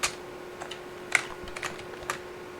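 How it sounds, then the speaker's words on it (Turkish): Sparse, quiet keystrokes on a computer keyboard while playing Roblox, a few scattered clicks over a faint steady hum. "Klavyemden ses daha az çıkarmaya çalışacağım."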